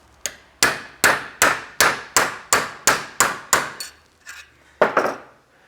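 A large socket is hammered down onto a steel angle piece to flatten it: about ten sharp metallic strikes in a quick, regular rhythm, then a short pause, a few lighter taps and one final hard blow.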